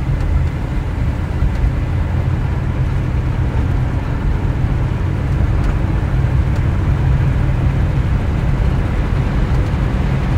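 A 1957 Pontiac Star Chief Safari two-door wagon cruises down a slightly crowned road, its engine a steady low rumble mixed with road and wind noise, continuous and fairly loud with no talking.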